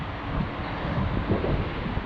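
Wind blowing outdoors, a steady low rumbling buffet across the microphone with no voices.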